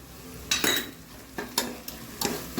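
Turmeric and Kashmiri chili powder are sautéed for mutton keema with amaranth leaves, with a low sizzle under several quick spoon scrapes against the pan.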